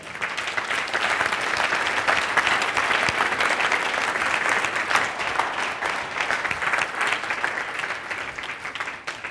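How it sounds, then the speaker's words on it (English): A large audience applauds continuously for champions called up on stage, a thick, even wash of clapping that holds steady for about nine seconds with no break. "Give him a round of applause."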